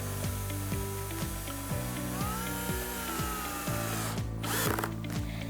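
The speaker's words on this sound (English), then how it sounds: "I can drill the hole and then attach the screws from the other side." Power drill boring holes in wooden slats for a braai rack, in repeated short bursts of rising whine as the trigger is squeezed and released, close and clear, with no talking.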